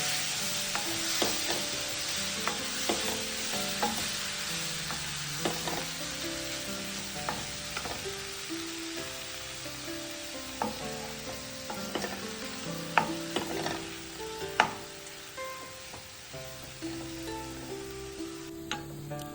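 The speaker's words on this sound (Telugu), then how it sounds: "పేస్ట్ మనం ఏదైతే గ్రేట్ చేసి పెట్టుకున్నామో అది వేసేద్దాం. మంచిగా కొద్దిగా రాస్న్ అయిపోయేంత వరకు కాస్త ఫ్రై చేసుకున్నాం." A paste of grated amla and coconut fries in a pan, giving a continuous sizzle broken by frequent spoon-and-pan clinks and scrapes in an uneven stirring rhythm, close and moderately loud.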